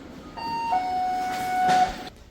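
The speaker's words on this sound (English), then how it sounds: "what does the doorbell to each room, what does it sound like?" A hotel room doorbell at a resort in Khao Yai rings out as a bright electronic chime, a few sustained tones layered into one short melody that rings clearly on its own and then fades.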